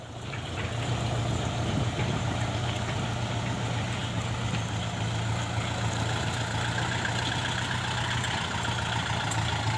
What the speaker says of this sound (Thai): เจนัทเอารถไถไปดันทางครับ